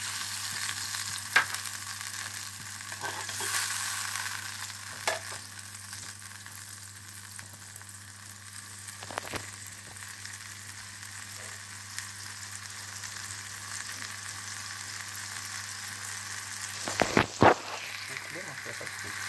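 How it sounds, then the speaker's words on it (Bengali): Mustard paste masala with added water bubbles and sizzles softly in a pan, a low steady simmer with a few sharp clinks of utensils against the pan. "মশলাটা ফুটছে।"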